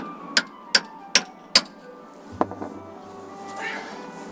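A screwdriver from a Land Rover Discovery toolkit tapping a bolt head to mark it during rear tie rod work: four sharp, evenly spaced metallic taps, then a few softer clicks and faint handling noise.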